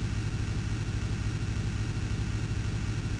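Bus engine in a video game, a steady low mid-pitched drone that hums on without a break at a constant level throughout, with no talking over it.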